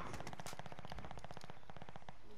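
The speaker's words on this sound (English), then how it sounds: "Why are you using the Kilo though?" Rapid automatic rifle fire from the Kilo in Warzone on Rebirth Island, a dense run of sharp evenly spaced shots that is loud and close and fills the whole stretch, easing slightly toward the end.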